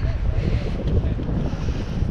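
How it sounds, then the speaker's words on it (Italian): Strong wind blows outdoors in Porto beside the river, buffeting the microphone with a loud, continuous low rumble that covers the whole moment. "c'è un bel po' di vento"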